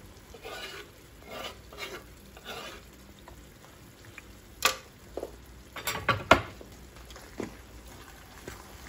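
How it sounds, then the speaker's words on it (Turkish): A spoon scrapes and clatters in a pan as rice and parsley are stirred together for a stuffed-pepper filling in olive oil, with soft sizzling beneath and several sharper metallic knocks midway. "Karıştırıyoruz."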